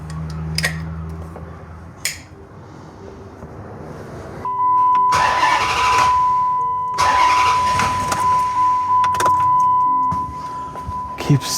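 A car engine cranking repeatedly during a compression test on a motor with a suspected head gasket leak, several bursts of starter churning separated by pauses, with a steady warning chime sounding and some faint talk around it.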